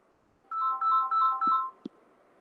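A mobile phone ringtone goes off during a quantum mechanics lecture: one short electronic melody of four quick repeated tones that then cuts out, followed by a click, in an otherwise quiet room.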